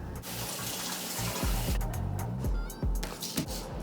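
Running tap water splashes steadily into a sink as a sweet potato is rinsed and rubbed under the faucet, with soft thuds and clunks of handling mixed into the continuous close water flow.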